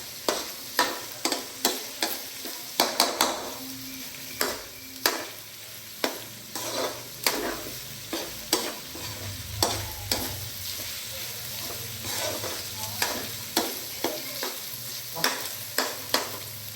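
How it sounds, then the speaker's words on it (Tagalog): Pre-cooked hotdog being stirred in a frying pan for creamy spaghetti, a steady low sizzle under repeated sharp scrapes and taps of the utensil against the pan at a fairly regular rhythm, close up, with no talking. "Now you mix our pre-cooked hotdog na ito."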